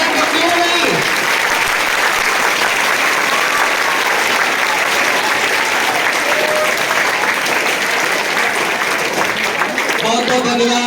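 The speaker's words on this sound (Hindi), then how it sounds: "जोरदार तालियां क्यों नहीं?" Loud, sustained applause from an audience at an award felicitation in Ramnagar, Varanasi, honouring a bronze medal winner, with steady dense clapping filling the whole stretch and a few voices heard faintly through it.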